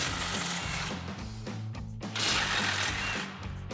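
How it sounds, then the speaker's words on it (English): A ratchet with an 18mm socket works loose the lower strut mounting nuts on the knuckle of a 2004-2020 Ford F-150, giving rapid repeated clicking bursts, close and loud, with a brief pause in the middle. "remove our 2 lower strut mounting nuts on our knuckle. So we've got our 18mm socket."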